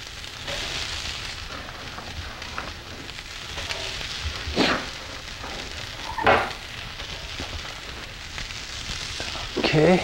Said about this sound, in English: We're going to add the sweet potato.